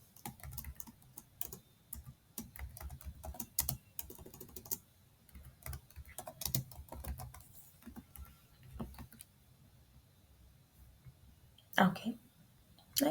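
Computer keyboard typing in irregular bursts while building an HTML and CSS resume, with quiet speech around it and a few louder keystroke clusters near the end.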